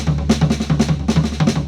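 An even paradiddle fill played on a floor tom, with steady strokes that all sit at the same volume and carry no accents, repeating close and alone with no voice over them.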